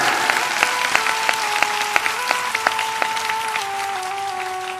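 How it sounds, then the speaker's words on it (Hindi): Audience at a satsang and Bhagavat Katha religious discourse applauds with dense, continuous clapping, fairly loud and close, with sharper individual claps popping out and a steady sustained musical tone running underneath throughout. "नेता ऐसी ताली मत बजाओ यार"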